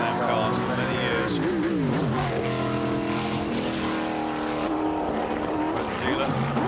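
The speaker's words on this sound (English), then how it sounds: "It's Peter Schleifer, all the way from Bavaria with the mighty Can-Am Lola" A Can-Am Lola race car driven hard on a historic circuit at a festival timed shootout, its engine roaring steadily and loudly with rising and falling revs, under continuous commentary.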